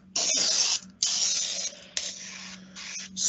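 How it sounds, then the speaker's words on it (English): Aerosol glass cleaner sprays onto a silicone tool in several loud, close hissing bursts, each cut off abruptly, with a low steady hum beneath. "spray glass cleaner, it has to be the aerosol kind that sprays out"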